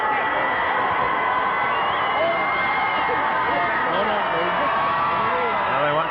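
A large crowd roars at an outdoor high school football stadium during a state semifinal playoff game, a broad sustained din of cheering and shouting under a commentator's voice.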